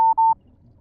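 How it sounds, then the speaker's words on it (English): Low-battery warning from headphones: three short, clean electronic beeps at one steady pitch in quick succession, close and clear, followed by near silence. "beeping at me. Headphone about to die."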